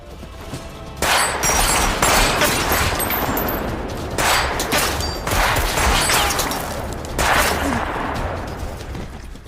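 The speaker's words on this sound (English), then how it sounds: "with their weapons, shot at the tactical troops very brutally" Dense, loud gunfire from weapons in a film battle scene against tactical troops, with rapid bursts and volleys surging at about one, four and seven seconds over a constant rumble and no talking.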